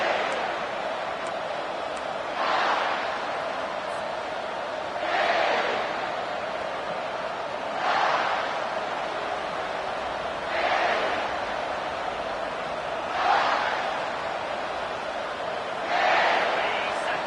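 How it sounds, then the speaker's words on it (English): Full-throated college football stadium crowd roaring loudly and continuously during an NCAA game, a broad wall of noise that surges in regular waves every few seconds without dying away. "This crowd, full throat, splitting the eardrums and letting them know it's going to be a long day"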